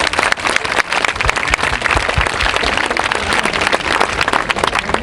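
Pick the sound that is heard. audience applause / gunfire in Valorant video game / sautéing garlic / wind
audience applause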